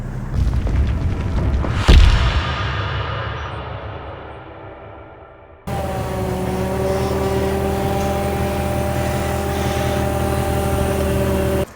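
A forklift lifts a vehicle to flex its suspension, a Rock-Link 3-link setup. A heavy thud gives way to a fading rumble, then a loud, close, steady droning engine hum holds on.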